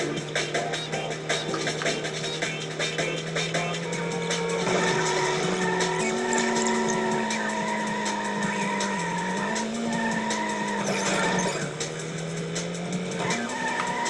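Tires squeal and skid in a racing video game, the screech holding steady and shifting pitch over an engine drone, loud and continuous with no talking.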